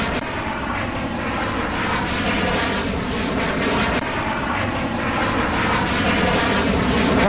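Rafale fighter jets landing at an airbase, a loud continuous aircraft engine roar holding steady throughout with no speech.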